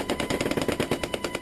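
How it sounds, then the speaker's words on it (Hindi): Rapid automatic gunfire from soldiers aboard an army helicopter firing downward, a dense, steady burst of evenly spaced shots, loud and continuous with no voices. "ये जवान नीचे की तरफ ताबड़तोड़ गोलियां बरसाते हुए भी दिखाई दिए।"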